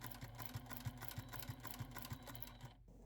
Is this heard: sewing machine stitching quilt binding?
yes